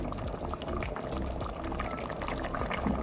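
Water boils in a pot of potato and peas rice, a steady dense bubbling and seething that holds evenly without pause, moderately loud and close.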